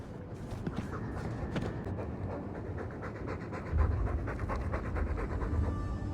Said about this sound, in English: All that noisy dog breath,